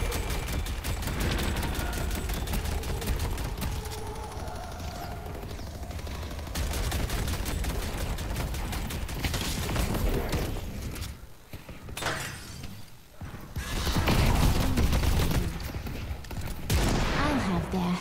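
Sustained gunfire in the Deadlock video game during a PvE match: steady, crackling shots with shattering impacts run throughout. The firing stays moderately loud, and a voice talks over it.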